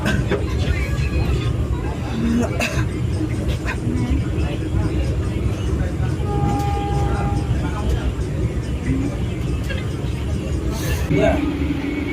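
Interior of a Vande Bharat express train running between Coimbatore and Bengaluru, with a steady loud rumble throughout and people talking over it.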